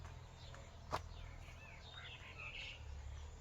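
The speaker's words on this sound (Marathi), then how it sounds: "जर शांत सर्व असेल ना तर पक्ष्यांचा खूप किलबिलाट ऐकायला येतोय आपल्याला" Several birds chirp and trill in a quiet rural garden beside a fruit tree, their small calls scattered and moderately distant over a low steady background hum, with one brief sharp knock partway through.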